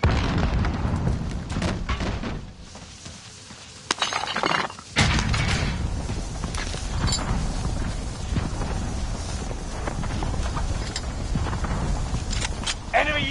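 A frag grenade explosion in Call of Duty, a sudden bright crack and burst cutting through continuous loud game noise and background gunfire, with faint talk in the mix.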